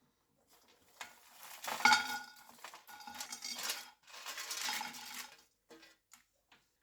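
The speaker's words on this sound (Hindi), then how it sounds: "अब इसमें हम सारे ड्राई इंग्रेडिएंट को डाल देंगे।" Dry whole spices for homemade amla chyawanprash tumble into a hot pan for dry roasting, giving bursts of rattling, pattering seeds and clinks of metal, then a spoon scraping them around, with no talking.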